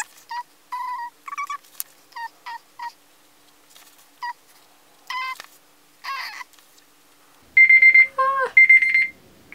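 A timer alarm sounds with short electronic chirps scattered at first, then a loud, sustained run of ringing tones near the end, with near silence between.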